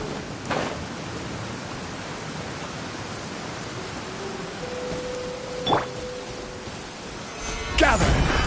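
Steady rain hisses in the video game Genshin Impact, a dense, even wash of falling drops. A few brief sharper knocks and a short tone break through near the end.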